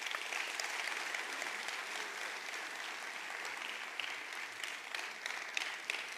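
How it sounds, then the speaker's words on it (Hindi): Steady, dense applause from an audience fills the room for several seconds, a continuous wash of many hands clapping with a few sharper individual claps standing out, moderately loud and with no voices over it. "एक जोरदार तालियां होनी चाहिए"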